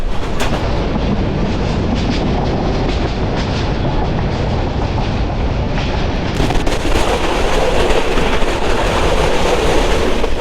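A loud Jayantika Express passenger train rumbles past nearby, its wheels clattering in a steady rhythm over the tracks.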